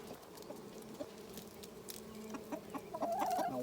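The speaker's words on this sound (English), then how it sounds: "You want to show them the chickens?" Chickens cluck and murmur at close range near a beehive during a swarm colony inspection, a steady low flock chatter with rising, brighter calls toward the end.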